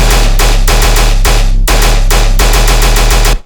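A synthesized heavy tearout dubstep gun sound layered with a deep sub bass fires rapid, loud, distorted stuttering bursts in a machine-gun rhythm with short gaps, alone and cutting off abruptly.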